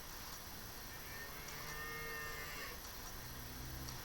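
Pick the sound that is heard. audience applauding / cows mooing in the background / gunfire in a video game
cows mooing in the background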